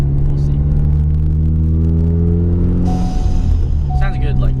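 A Ford EcoBoost Mustang with a Megan Racing catless downpipe, muffler delete and retained factory resonator idles with a deep, droning exhaust rumble that shifts in pitch partway through, close and loud, with voices nearby.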